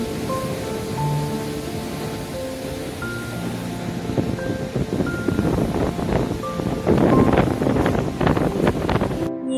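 Sea wind at Tajpur beach rushes steadily against the microphone while waves wash in, with the surf growing louder toward the end.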